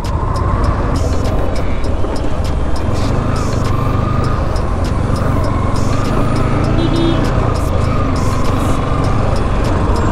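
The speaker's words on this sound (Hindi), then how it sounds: "हाँ भैया काफ़ी रुकना पड़ता है भाई यहाँ ट्रैफिक में।" Busy road traffic in Delhi, with cars, trucks and motorcycles rumbling close by in a loud, dense, continuous wash, and horns tooting repeatedly over the engine noise.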